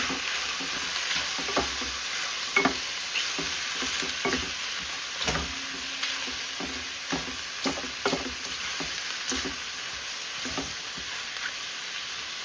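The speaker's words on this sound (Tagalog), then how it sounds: "Haluin na natin. At atin kong i-adobo sa gata." Adobo cooks in coconut milk in a frying pan and sizzles continuously while a utensil stirs it. The stirring makes irregular scraping and clinking taps up close, and no one speaks.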